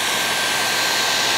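A dual-voltage travel hair dryer blows steadily at close range on low speed, a loud continuous broadband whoosh with no pauses or talking.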